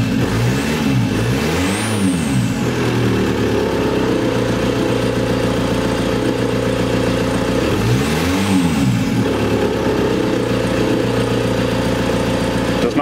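VW camper van with a swapped-in TDI diesel engine and no coolant, revving twice in rising-and-falling sweeps over a steady idle, loud and close.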